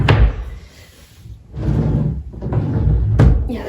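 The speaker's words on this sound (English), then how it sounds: "yeah, they're just very loud, so it's really hard to get up in the morning without waking up my roommate." A dorm dresser drawer, hard to pull out, is yanked open and shoved shut several times, with scraping slides and loud knocking bumps near the start and end, close by and without speech.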